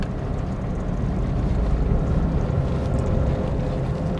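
A car engine pulling in first gear on a village road, a steady low broadband drone with rumble and light road noise, continuous and even throughout.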